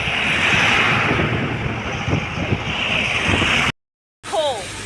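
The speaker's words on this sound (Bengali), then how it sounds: "সুন্দর হাওয়া দিচ্ছে একদম ফুরফুরে হাওয়া" Steady wind rushes and buffets the microphone outdoors, a constant breezy roar that cuts out abruptly near the end.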